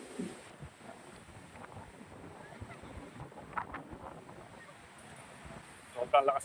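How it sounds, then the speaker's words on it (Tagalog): Strong wind gusting steadily past the microphone at a park in San Nicolas, Pangasinan, a continuous broadband rush that swells in short bursts near the end. "Sobrang lakas pa rin ng hangin."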